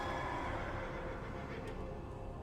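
A horned horse from World of Warcraft Shadowlands lets out a brief whinny over a steady wash of ambient background sound, with no talking.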